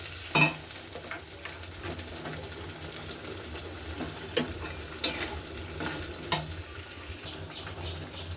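Ground soybean paste is stirred in a kadai over low heat, giving a soft continuous sizzle punctuated by intermittent spatula scrapes and knocks against the pan, close up with no talking.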